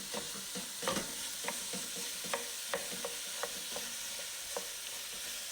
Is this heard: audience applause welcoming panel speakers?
no